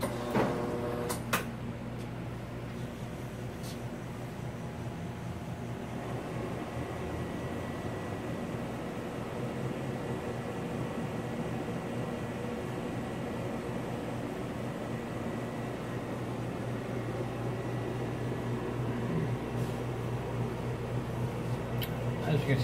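A Sorvall RC 3B Plus centrifuge starts and ramps toward 5,000 RPM, a steady loud motor hum with a low tonal drone and broadband whir holding throughout, a few faint clicks near the start.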